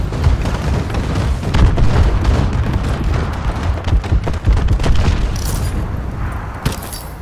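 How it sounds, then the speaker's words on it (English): Friendly bombing run in Call of Duty: Advanced Warfare multiplayer, a loud barrage of heavy explosions and booming impacts rolling one after another, close and rumbling, with sharper blasts near the end. "Friendly bombing run in."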